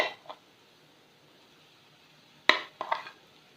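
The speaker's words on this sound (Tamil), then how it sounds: "இப்போ இந்த சமயத்தில் வந்து நம்ம மசிச்சு வச்சுருக்க உருளைக்கிழங்கு இதில் ஆட் பண்ணிக்கிறேன்." A spoon scrapes and clacks against a pan as mashed potato is stirred into onion masala for aloo paratha stuffing, a few sharp clinks at the start and a cluster of stirring knocks near the end, with quiet gaps between.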